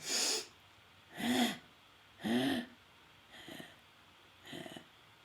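Five deep breaths drawn during a guided meditation, each a broad airy rush lasting about half a second with steady pauses between, the first three loud and close, the last two softer.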